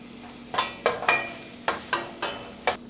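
Green chillies fry in hot oil for a home-cooked drumstick curry, a low sizzle broken by about seven sharp, spaced clatters or spatters of stirring, close up and without speech.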